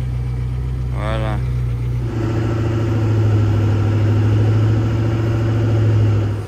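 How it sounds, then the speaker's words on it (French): A Koenigsegg supercar engine idles up close with a steady, loud low rumble, and a brief higher whine rises early before the idle settles and holds to the end. "Je vais couper le moteur de la Koenigsegg."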